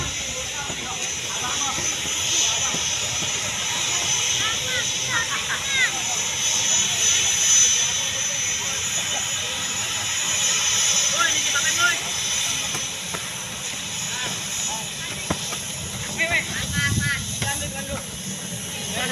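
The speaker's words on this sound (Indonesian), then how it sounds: "Falcon 8X pesawat terbaru," A Dassault Falcon 8X jet takes off at Halim Perdanakusuma airport, roaring with a sustained hissing whine, steady and loud throughout, with birds chirping and people talking faintly underneath.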